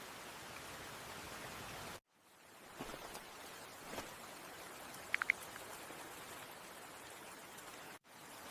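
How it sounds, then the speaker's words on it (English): Heavy rain pours steadily outdoors under a gray sky, a dense, even hiss that stays constant throughout, with a brief dropout near the start and end and a few faint clicks in the middle. "It is raining very hard right now."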